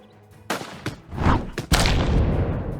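A grenade explodes in a colony survival game amid gunfire, with several sharp shots and thumps building to a heavy boom that leaves a rumbling tail.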